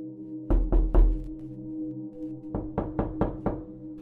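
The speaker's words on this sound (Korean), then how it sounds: "선명한 노크 소리." Knocking on a wooden restroom door in a shop: a quick set of three sharp knocks, a pause, then a second burst of five knocks, loud and close in an otherwise quiet room.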